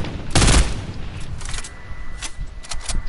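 Loud video game gunfire rings out as a heavy burst of rapid shots followed by several shorter, sharp volleys, all up close and without speech over it.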